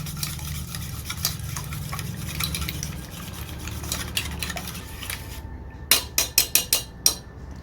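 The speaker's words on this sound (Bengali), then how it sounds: "এবার ডিমটাকে ভালো করে আমি ঘাঁটতে থাকবো।" Raw egg mixture seasoned with salt and turmeric is beaten in a bowl, with steady scraping and stirring throughout and a series of sharp utensil clicks against the bowl near the end.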